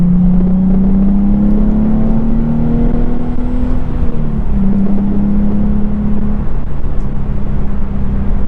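A Nissan 370Z NISMO with a Z1 cold air intake cruises in third gear, its engine holding a steady, loud drone that rises slightly then settles, with no rattles and no talking.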